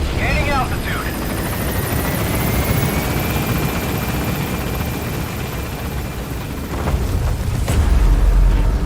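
Helicopter in the Metal Gear Solid V game climbing after takeoff, a loud steady rotor roar with whining turbine tones, close and constant, with brief impact-like thumps and some speech over it.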